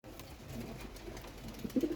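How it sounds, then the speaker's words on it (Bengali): Pet pigeons kept at home give low, soft coos, and a fuller cooing burst rises near the end over a quiet background. "এ হইতেছে বাবু কবুতর"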